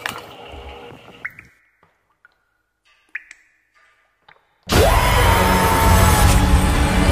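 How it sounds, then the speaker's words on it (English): From inside a dishwasher on a low cycle: first sparse drips and small ticks in near silence, then a sudden, loud, continuous rush of spraying water that fills the remaining seconds. "I closed it up and started the dishwasher on the low cycle."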